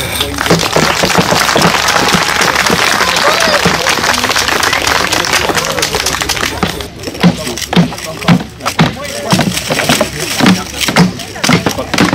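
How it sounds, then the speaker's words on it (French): An outdoor crowd at a village wine festival applauds loudly and continuously at first, then breaks into scattered sharper claps, with voices mixed into the noise. "Vous pouvez l'applaudir."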